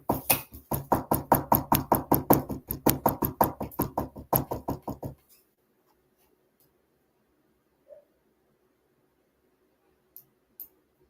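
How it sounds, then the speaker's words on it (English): Someone knocking on a door, a quick run of about twenty sharp close raps in steady rhythm that suddenly stop, followed by near silence with a few faint clicks. "When I knocked on the door"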